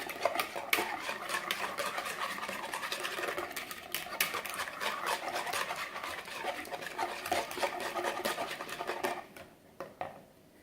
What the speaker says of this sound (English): take a bowl, take your egg, and then go ahead and whisk it